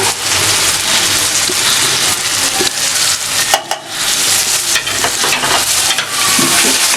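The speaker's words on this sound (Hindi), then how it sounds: "इसको अच्छी तरह से हिलाएं चलाएं ताकि मसाला इसमें मिक्स हो जाए इस तरह से" Stuffed capsicum filling is stirred in a hot pan with turmeric, red chilli powder and ground coriander, a loud, close sizzle of frying under repeated scraping strokes that continue steadily throughout, without speech.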